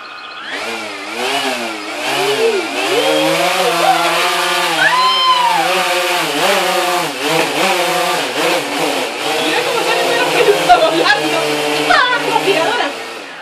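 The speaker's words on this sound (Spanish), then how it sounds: "Una aspiradora nueva." A new vacuum cleaner runs with a loud, continuous motor whine whose pitch wavers and surges up and down throughout, steady and close.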